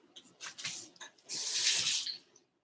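A dropper being rinsed under a kitchen tap, with running water splashing in short bursts and then a longer steady stream, close and fairly quiet.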